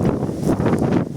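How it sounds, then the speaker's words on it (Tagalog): Gusty wind in Ilocos Norte, Philippines buffets the microphone with low, rumbling bursts throughout the short clip. "mahangin po kasi dito sa amin sa Ilocos Norte."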